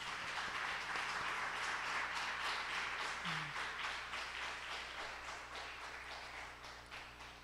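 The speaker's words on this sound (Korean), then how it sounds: "여러분 축하 박수 해주시기 바랍니다." A congregation applauds at an infant baptism during a Thanksgiving Sunday church service, a steady, soft patter of many hands held at an even level throughout and gradually easing off toward the end.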